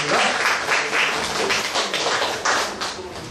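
An indoor audience at a Korean talk event applauds a speaker's introduction, a dense, steady wash of many hands clapping together, loud and close, continuing throughout without words.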